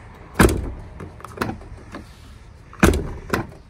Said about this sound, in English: it makes a like a metal on metal scratch noise